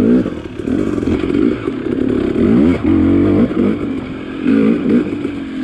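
A KTM 250XC TPI two-stroke dirt bike engine warms up close by, its uneven idle pulsing and rising in short throttle blips with a clattery, buzzing tone, and no voices heard.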